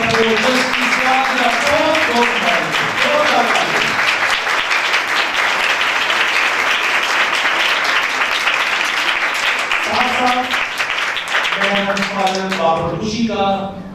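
Sustained, loud applause from a church congregation at a Christmas anniversary program in Faisal Town, Lahore, dense clapping continuing throughout while someone talks over it near the start and again near the end.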